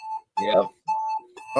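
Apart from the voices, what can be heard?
phone alarm going off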